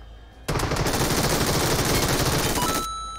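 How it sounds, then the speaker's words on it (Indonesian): Sustained burst of automatic gunfire from another player in PUBG, a dense, loud rattle of rapid shots lasting about two seconds before cutting off, with no talk over it. "Siapa tuh nembak? Oh, player lain yang nembak."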